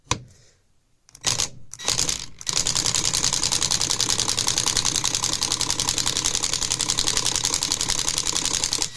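A drill bores out a rusted screw on a 20-gauge black powder side-by-side shotgun, starting with a few short bursts and then settling into a continuous rapid chattering whir close by.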